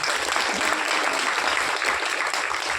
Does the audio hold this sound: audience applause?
yes